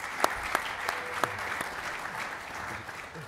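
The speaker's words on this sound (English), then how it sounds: "Please give a round of applause to Mr." Audience at a football betting panel in a hotel venue claps to welcome a panelist; a few louder claps stand out over a thinner, moderate round of applause that fades toward the end.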